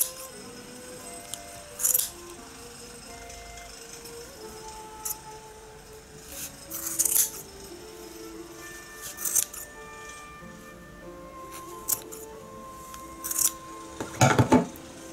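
Scissors snipping through wool yarn while shaping a handmade pom pom, with several separate sharp crisp cuts spaced irregularly amid quiet handling noises.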